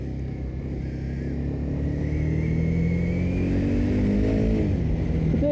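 A motorcycle setting off on a cold-weather ride, its engine droning steadily close by and rising in pitch as it accelerates, with no talk over it.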